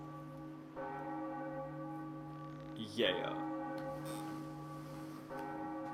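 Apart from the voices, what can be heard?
bell ringing in Zelda The Wind Waker HD video game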